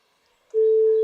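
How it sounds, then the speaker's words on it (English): A steady pure sine tone from a simple oscillator written in Omni, a programming language for audio, switches on abruptly after half a second of near silence and holds loud and unwavering to the end. "we created a simple sine wave oscillator"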